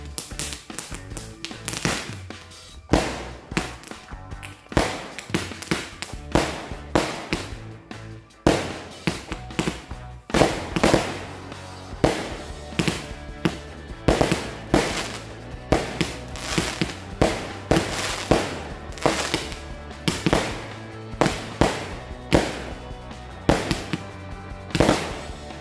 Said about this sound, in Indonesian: kita sumet mercon Roman Candle sekaligus 4 buah